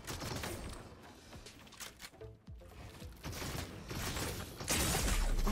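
Fortnite video game combat with rapid gunfire bursts and mechanical weapon clatter mixed into dense game audio, steady and fairly loud throughout.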